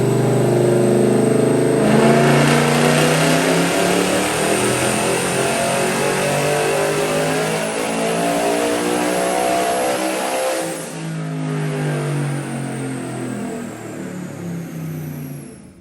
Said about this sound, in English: That was like the longest dyno pull I've ever done in my life.